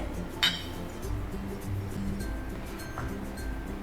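Drinking glasses of water meet in a toast, giving one short, bright clink near the start, then a quiet room hum.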